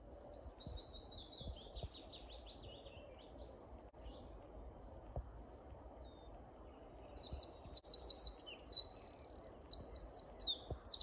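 Bright, high descending song phrases of a willow warbler at dawn chorus, repeating over a steady rustling outdoor background, growing louder and busier toward the end.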